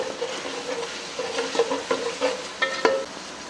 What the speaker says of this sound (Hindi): अब इसी ऑयल में हम प्याज डाल रहे हैं।